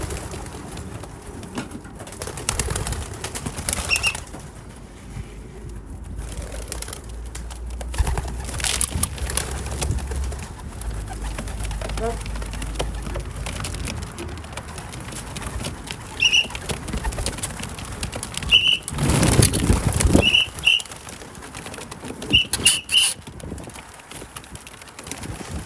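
Racing pigeon hens in a loft coo in soft low murmurs, with bursts of wing flapping and scuffling on perches, the activity rising and falling irregularly and swelling in busier flurries, no voices heard.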